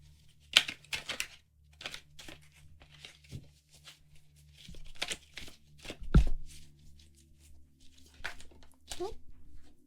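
Tarot card shuffling close up, Llewellyn cardstock deck: soft riffles, flicks and papery snaps come in bursts over a low steady hum, with a few small knocks.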